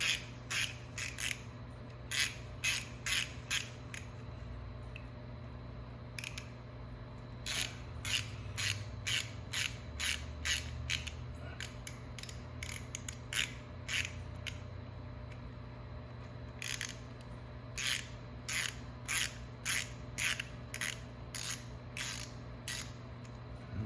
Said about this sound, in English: this particular motor was very tight, the screws on it, so I've upgraded the screwdriver a little bit